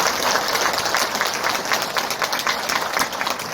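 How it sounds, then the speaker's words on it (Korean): Audience at a book relaunch commemoration held at a history hall in Gumi claps in a lively, uneven round of applause, individual claps audible within the crowd, a few voices faintly underneath. "여기에 동의하신다면 큰 박수를 한번 부탁드리겠습니다"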